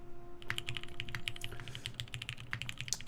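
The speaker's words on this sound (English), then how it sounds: "Who knows what keyboard the gifted sub sound is from?" Quick, crisp clacks on a mechanical computer keyboard sound in a rapid, uneven flurry. The typing is quiet and close, played as a notification sound for gifted subscriptions, with no voices.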